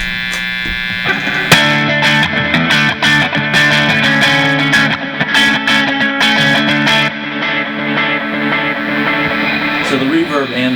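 An electric guitar runs through overdrive on a Line 6 HD500 multi-effects unit with reverb and delay, playing sustained, buzzing chords and notes continuously and loud, ending in a fading bend.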